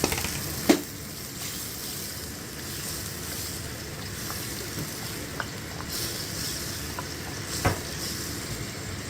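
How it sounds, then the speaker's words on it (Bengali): Vegetables fry in a pan with a low, steady sizzle and hiss, punctuated by a few sharp utensil knocks, heard close and without voices. "সবজিগুলো দিয়ে দিচ্ছি আবার।"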